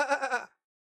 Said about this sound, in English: Aviro, you hear sheep coming towards the door a little bit